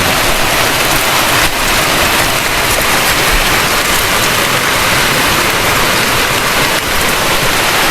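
Heavy rain pours at Umngot River, Shnongpdeng, filling everything with a loud, dense, unbroken hiss and roar of water, with no talking.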